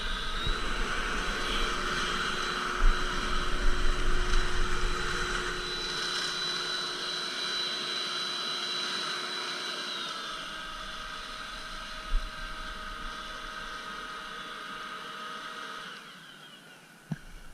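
A Ryobi leaf blower on its turbo setting roars with a loud, steady airflow whine and a strong tonal hum. It runs continuously close by, blowing into a deeper trench of leaves, and its pitch shifts slightly near the end.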